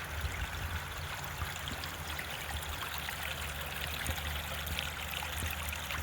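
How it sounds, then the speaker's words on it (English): A small brook trickling off a wooded hillside under pine trees in winter, a steady close babbling flow of water with continuous gurgles and no talking. "I kicked out this little brook here, a little trickle of water that comes off the hill, so it'll flow a little better"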